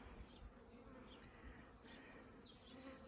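A swarm of honey bees buzzes in the open, a steady insect hum with louder passes as bees fly close, alone with no talk.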